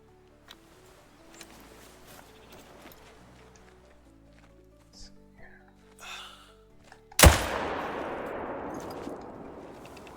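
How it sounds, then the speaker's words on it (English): A loud, sharp single rifle shot from a Parry .308 in theHunter: Call of the Wild, fired at a tahr from nearly 300 meters, with a long echoing tail over quiet outdoor game ambience. "One shot from the parry 308 from almost 300 meters away."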